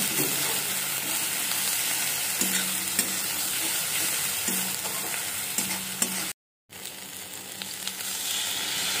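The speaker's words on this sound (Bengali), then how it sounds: "সেটা আমি কড়াইতে দিয়ে ভালো করে কষে নেব" Garlic and onion paste fries in a wok, with a loud continuous sizzle and repeated scraping strokes of a spatula, broken by a brief gap of silence.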